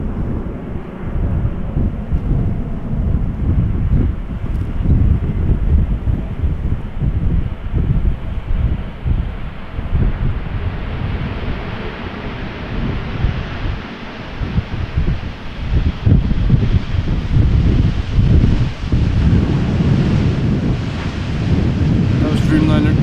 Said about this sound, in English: Dreamliner 10 arriving from LAX,